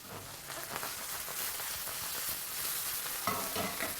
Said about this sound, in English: These mushrooms, you'll see, are sizzling in the pan.